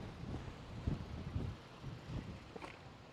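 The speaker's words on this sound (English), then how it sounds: "it's windy out here today" Wind buffeting a microphone outdoors, a quiet continuous low rumbling roar with irregular gusty thumps.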